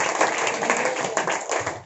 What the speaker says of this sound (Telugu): చప్పట్లు కొట్టి దేవునికి స్తోత్రాలు